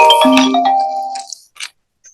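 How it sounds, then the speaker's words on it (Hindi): A phone ringtone plays loud and close as a short melodic chime sequence of a few tones, fading out, followed by faint clicks. "फोन बज रहा है।"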